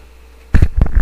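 A cat meows in short bursts close by, about three vocal calls in quick succession after a brief quiet pause.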